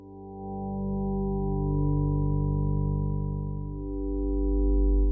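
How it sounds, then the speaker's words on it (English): Synthesized voices and a drone from a modular synth patch fade up on a Praxis mixer channel, a sustained, dense harmonic tone holding steady and swelling slightly toward the end. "those are the voices and the drone that start and end the piece"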